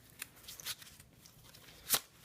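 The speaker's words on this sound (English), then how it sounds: "You're just weaving the cards together and then doing a normal fan." Playing cards riffled and woven together and then spread into a fan, giving a few short papery flutters and snaps with one sharper crisp burst near the end, close and fairly quiet.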